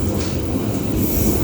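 Argo Wilis passenger train nearing Banjar station, heard from on board as a steady loud rumble of wheels on rails with faint rhythmic clatter.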